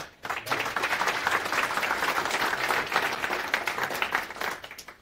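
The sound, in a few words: audience applause for a speaker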